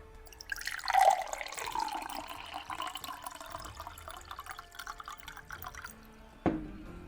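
Mineral water poured into a glass or bottle, with a splashy, dripping liquid sound that swells near the start, trails off into a steady trickle, and ends with a brief clunk.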